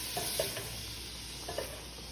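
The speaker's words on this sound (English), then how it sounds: "we basically see that butter is melting." Butter melting over low heat in a pan for a mac and cheese roux, giving a faint, steady sizzle with a couple of soft clicks and stirring touches, quiet and close, with no talking.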